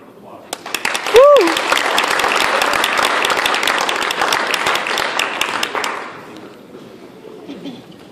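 A crowd at a wrestling end-of-season banquet breaks into a full round of applause with a short whoop near the start. The clapping holds steady for about five seconds, then fades into room murmur.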